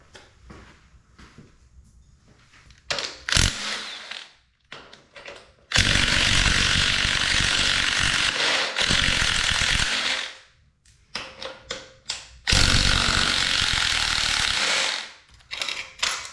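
Impact or ratchet tool bursts loosening the carburetor bracket bolts on a 2021 Yamaha TTR50, with two long loud whirring runs and shorter clicks and clatter between them, close up.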